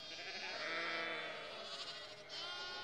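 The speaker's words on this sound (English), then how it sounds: "Feeding the baby lambs." Baby lambs bleat on a sheep farm, a faint, wavering chorus of overlapping high cries that carries on without pause.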